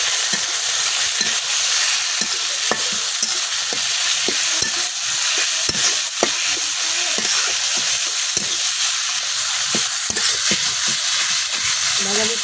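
Greens frying in a pan with onion and garlic give a continuous loud sizzle, broken by frequent scraping clicks of stirring throughout.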